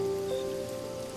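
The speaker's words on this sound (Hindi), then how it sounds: "ये तो बारिश की बूंदें और ओले पड़ने लगे।" Light rain with hail falling as an animated-story sound effect, a steady wash of patter carrying a faint tonal hum beneath, continuous and fairly even throughout the short stretch.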